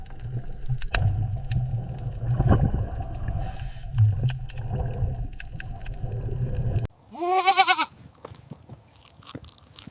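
A goat bleats loudly and nearby in a short wavering call near the end, after a stretch of crunchy chewing and low rustling background noise.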